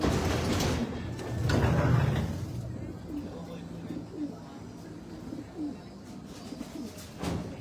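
A hen pigeon in a breeder loft gives soft, repeated low coos, close by, while people talk over the start of the clip.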